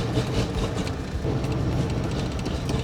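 Bullnose Ford truck engine struggling to rev, a loud, rough, uneven rumbling drone that holds steady without climbing in pitch, heard up close.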